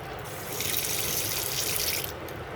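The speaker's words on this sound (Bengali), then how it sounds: "পাতাগুলো সুন্দরভাবে ধুয়ে নেবেন পানি দিয়ে" Tap water runs and splashes over a handful of leaves being rinsed, a steady close rush of flowing water lasting a couple of seconds without talk.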